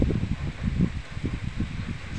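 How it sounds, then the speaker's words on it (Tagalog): Steady outdoor wind noise, a low rumbling gust buffeting the microphone with a soft rustle, no voices. "Ang sarap ng hangin."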